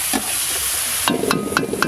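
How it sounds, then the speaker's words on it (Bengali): Fried potato and cauliflower are tipped into a sizzling tomato masala in a pan: a steady frying hiss, then a louder burst of sizzle with rhythmic scraping and stirring clatter over the last second. "এবার ভেজে রাখা আলু আর ফুলকপি দিয়ে দেবো।"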